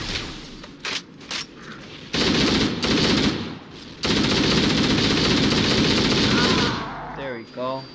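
Gunfire in Halo: Combat Evolved Anniversary, loud close bursts of automatic weapon fire, short stutters giving way to long sustained volleys, then tapering off, with game effects and voice over the top.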